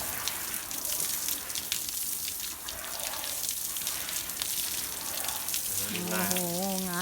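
A strong, steady rush of water hisses throughout, with a brief tonal whine rising near the end.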